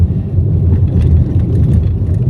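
Motorcycles and tricycles roll past on a winding mountain road at Devil's Corner in Tanay, Rizal, giving a close, continuous low engine rumble with faint whirs as vehicles pass.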